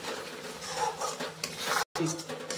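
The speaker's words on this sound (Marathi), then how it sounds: "पेस्ट चांगली तेल सुटूस तर आपण परतून घेऊया" Onion-tomato paste and whole-spice paste sauté in oil in a pot, giving a soft continuous sizzle with scraping stirs and light utensil clinks, fairly quiet, cut by one brief silent gap near the end.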